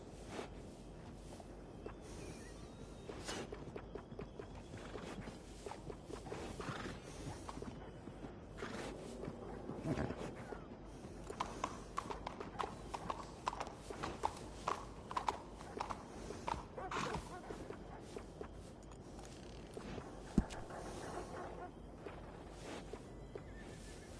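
Horse hooves clip-clop at a walking pace over a steady background wash in Red Dead Redemption 2, with occasional louder thuds; no clear neigh stands out.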